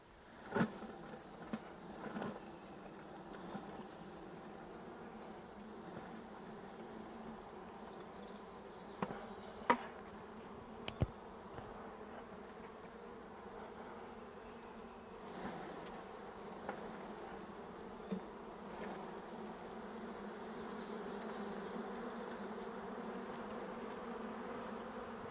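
A honeybee swarm hums steadily as it is brushed into a bucket, the buzzing dense and continuous with a few sharp knocks and taps scattered through it.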